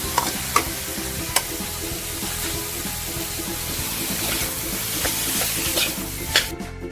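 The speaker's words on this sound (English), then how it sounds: "At this point, we can now add our cooked rice." Cooked rice stir-fried in a pan with green beans for Indonesian nasi goreng: a continuous close sizzle broken by repeated scraping and clinking strokes of the spatula, with no talk.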